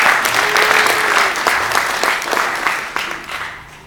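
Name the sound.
audience round of applause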